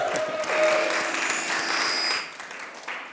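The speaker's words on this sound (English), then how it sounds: "We'll get a round of applause for that." Conference audience at a morning summit applauding for Women's History Month, a moderate round of clapping that holds steady, then thins and fades toward the end, with faint voices and a tone underneath.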